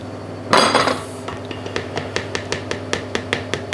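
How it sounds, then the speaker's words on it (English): Flour tipped into a metal sieve over a bowl, a loud rushing clatter at first, then a quick run of regular light metallic taps as the sieve is knocked, close and without talk. "I'm going to sieve the flour"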